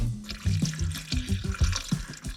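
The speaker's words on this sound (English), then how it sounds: "I want to try and put the least amount of water in here as possible to be able to cook that pasta." Tap water runs into a cooking pot for pasta at a riverside car camping spot in winter, a close, splashing stream with uneven gurgling pulses throughout, no talking.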